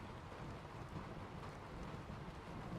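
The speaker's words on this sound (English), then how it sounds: "And you can also hear the rain on top of the building." Rain falling on a building roof in the game Skyrim, a faint, steady hiss of dense patter with soft low rumbling underneath, continuous and even, with no voices.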